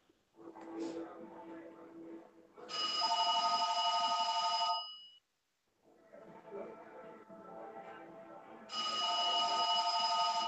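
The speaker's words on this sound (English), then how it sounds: "You got the I, two bells on the side that be ringing," An old rotary house phone with two bells on the side rings in long loud bursts of bright metallic trilling, two rings separated by pauses, with quieter room noise and faint voices between them.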